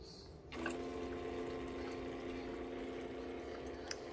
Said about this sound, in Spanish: ahí está tomando el agua. Ustedes escuchan el ruidito que hace.